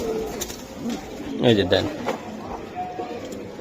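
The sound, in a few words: silver Giribaz pigeons cooing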